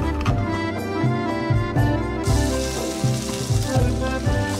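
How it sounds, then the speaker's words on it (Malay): Pounded spice paste for pineapple sambal sizzles loudly in hot oil, with steady frying crackle throughout and regular stirring scrapes pulsing underneath. "Dan kita tumis bahan-bahan tadi yang kita dah siap tumbuk tu."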